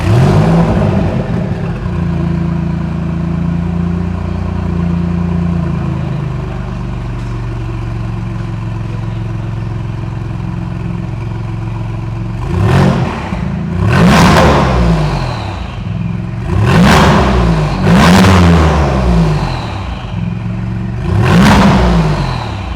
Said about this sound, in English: So now it's time to listen up to the sound of the Maserati MC20 from Mansory, guys.